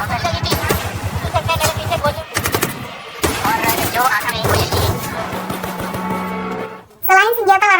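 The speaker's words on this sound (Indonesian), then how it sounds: "Mereka membredel para petugas keamanan secara membabi buta." Rifle gunfire in a terrorist attack on India's parliament, rapid automatic bursts with voices and narration layered over the shots, followed by a brief drop and a sudden loud tail.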